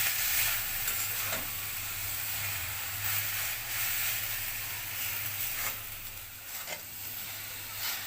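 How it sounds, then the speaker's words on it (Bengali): Red amaranth greens and onions are stirred in a frying pan, giving a steady close sizzle with repeated scraping and tossing sounds of the spatula throughout. "লাল শাকগুলোকে আমি 2-3 মিনিট এরকম নেড়ে ছেড়ে দেবো"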